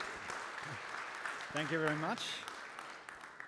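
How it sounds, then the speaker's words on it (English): Audience applause at the AtlasCamp 2017 developer conference for the incoming speaker, a steady broadband patter from the crowd, while someone talks over it, thanking them. "let's just give him a round of applause"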